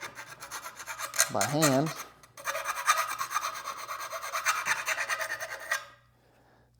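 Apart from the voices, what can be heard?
small hand file deburring metal transfer case part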